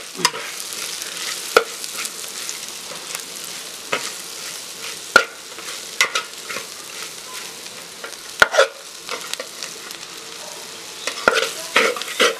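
Beef stirred in a hot pan with turmeric, coriander and garam masala makes a continuous sizzle. A spoon scrapes and clatters against the pan in repeated sharp knocks. No one speaks.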